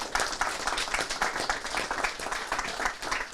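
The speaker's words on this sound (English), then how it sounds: "So let's all give them a round of applause." A crowd claps at a town fishing derby outdoors, a brisk and fairly dense round of applause that holds steady for a few seconds.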